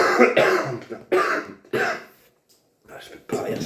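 Several harsh, bursty coughs come one after another, separated by short gasps, then a brief pause before more throaty coughing close to the mic.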